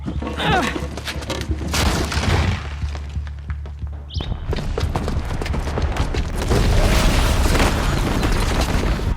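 Explosions and heavy booms from a bomb blast in the video game Horizon Zero Dawn, a sudden burst near the middle followed by loud sustained rumbling and debris, with game music and effects throughout.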